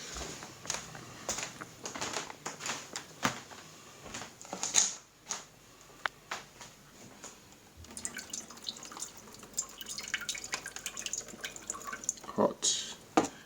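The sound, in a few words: pouring hot noodle water out of a pot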